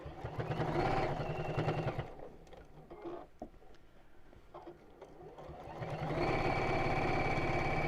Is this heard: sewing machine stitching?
yes